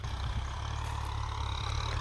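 An older M6040 tractor engine runs steadily in a field, a low, even diesel drone with a deep rumbling throb that holds constant through the short stretch, close by and alone.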